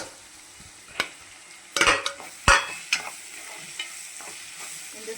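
Large onion and tomato going into hot oil over fried eggplant, giving a soft sizzle with a few sharp stirring and spoon-on-pan clanks, close and otherwise quiet.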